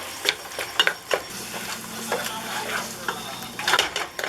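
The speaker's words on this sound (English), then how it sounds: "we're just going to brown this ground beef up chunky style" Ground beef browning in a pot for three-bean chili, with a low sizzle under repeated scraping, stirring clicks of a utensil against the pot, close and fairly loud.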